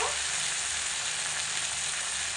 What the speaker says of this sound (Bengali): এবার এর মধ্যে দিয়ে দেব কেটে রাখা আলু